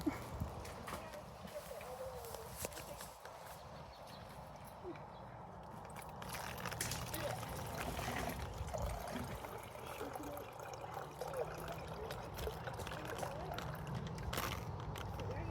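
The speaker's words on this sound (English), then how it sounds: "carefully pour your water into the bottle, making sure it doesn't spill much" Water poured from a container into a bottle outdoors during wilderness water purification, a steady trickling splash running through the clip over a broad outdoor background, with a voice talking over it.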